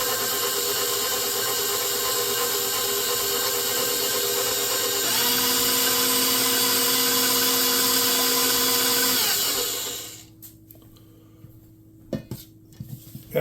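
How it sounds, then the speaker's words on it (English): An electric mixer whirs steadily as it beats vanilla extract into sugar for a king cake, its tone shifting partway through before the motor cuts off, leaving a few faint clinks. "We've got the remainder of the half a cup of sugar. We're going to mix this up."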